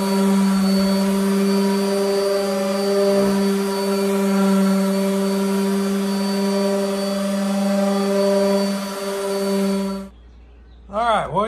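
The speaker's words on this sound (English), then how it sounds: "next we'll get the palm sander and we will fine tune it" Palm sander smoothing the wood of a homemade kegerator ice box, a loud steady motor whine with a constant hum that runs for about ten seconds before cutting off abruptly.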